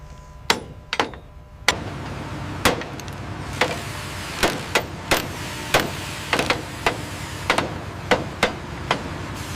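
An anchor bolt is struck repeatedly with a hammer, sharp metallic blows coming at an uneven rhythm, about a dozen impacts over a low background hum.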